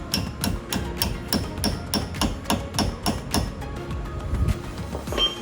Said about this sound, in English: you just tap it in until it won't tap no more on both sides, top and bottom.